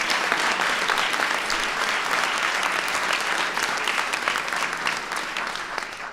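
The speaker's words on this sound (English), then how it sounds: "Give Jacob a round of applause" Sustained applause from an audience at the White House Science Fair, a dense steady wash of many hands clapping for a student, loud and continuous for several seconds before tapering slightly at the end.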